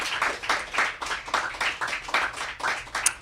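An audience applauds student readers at a writing event, a brisk patter of many hands clapping with uneven rhythmic bursts, fairly close and steady for a few seconds, with no talking.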